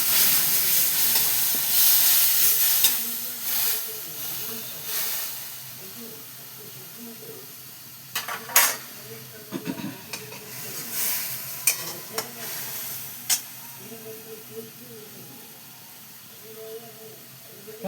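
Chicken frying in a pan while being stirred, with a steady sizzling hiss and repeated scraping and clattering strokes of the spoon, loudest near the start and then quieter.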